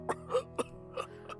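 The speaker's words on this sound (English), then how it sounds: "An old man sitting next to her is suffering from a coughing fit." An old man's coughing fit in the visual novel Kara no Shoujo: several short, rasping coughs and throat-clearing bursts in a ragged rhythm, fairly quiet over a soft background tone.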